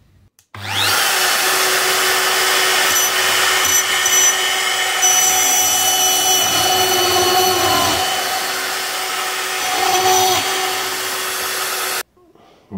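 A power tool fitted with a router bit drills into a piece of plate, giving a loud, steady whine that starts abruptly and runs continuously for about eleven seconds before stopping.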